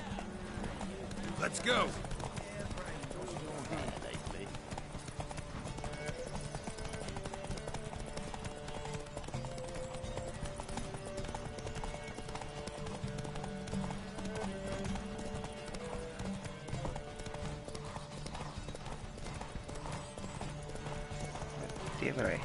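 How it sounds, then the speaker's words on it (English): Horse hooves clip-clop at a fast, steady gallop through a video game horse race in The Witcher 3, continuous and close, with a brief whinny near the start and someone talking over the pounding hoofbeats. "Damn it, I hate horse races."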